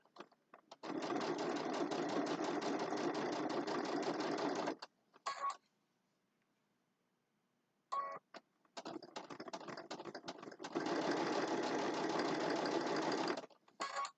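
A sewing machine stitches fabric for a hand sanitizer holder in two loud, steady bursts of about four seconds each, separated by a short pause with a few clicks.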